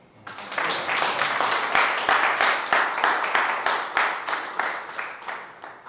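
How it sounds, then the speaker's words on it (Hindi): An audience at a live spoken-word and poetry show bursts into applause, with fairly loud, rhythmic clapping that sustains for several seconds and slowly tapers off, with no voices over it. "इस लाइन में मुझे तालियां चाहिए"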